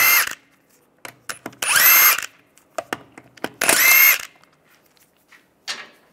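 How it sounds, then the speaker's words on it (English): A power impact tool zipping lug nuts off a Volkswagen Beetle wheel, with two longer loud whirring bursts and several short sharp bursts, close and clear, separated by quiet pauses and clinks. "go around, take the other lug nuts off."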